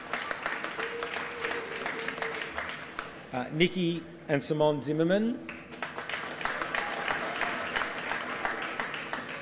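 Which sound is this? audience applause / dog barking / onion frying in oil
audience applause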